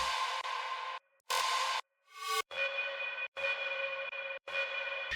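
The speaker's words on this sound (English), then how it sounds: "Some more effects to fill in the spaces" Electronic sample-pack effects fill the gaps in an electronic dance track: a run of separate bright, buzzy tonal bursts with short silences between them, loud and close, with no voices.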